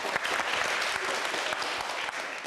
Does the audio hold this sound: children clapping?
yes